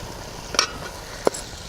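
Rohu fish curry being stirred in a pan with ground poppy seeds and coconut powder, a faint steady sizzle with two brief scraping clinks of the spoon.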